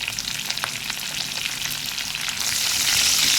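Curry leaves sizzle as they hit a pan of frying curry, producing a bright crackling hiss that swells louder toward the end, with faint stirring and no talk.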